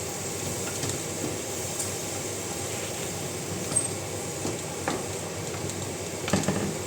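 Fish curry in a pan with a splash of water, sizzling steadily while being stirred, with occasional soft scraping knocks of the utensil, moderately close and without talk.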